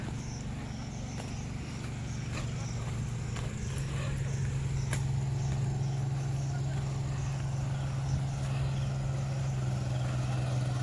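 A boat's engine hums steadily and grows slightly louder as the boat pulls away at Joypur Forest water park in Bankura, while people talk faintly nearby.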